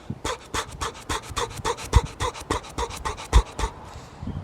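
Rapid, rhythmic panting exhalations follow a bout of heavy exercise, steady and close, about four per second, and they sound much like a panting dog.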